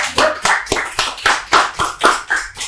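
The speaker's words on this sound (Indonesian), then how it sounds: "Tepuk tangan dulu." Several hands clap in a crisp, even rhythm at a studio podcast, about ten sharp claps in quick succession, close and loud with no talking.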